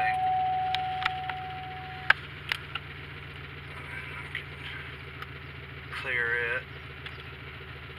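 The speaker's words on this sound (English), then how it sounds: "Seems to be idling okay." A Pontiac GXP engine idles steadily after a tuner install, a low, even rumble underneath someone speaking briefly, with a few clicks and a short high whine near the end.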